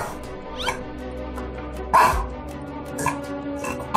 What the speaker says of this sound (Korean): 하울링하는 거 처음 봐요.